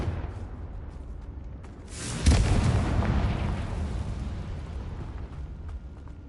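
A Confringo fire-spell explosion in the Hogwarts Legacy video game: a sudden loud boom followed by a long rumbling, crackling roar that slowly fades.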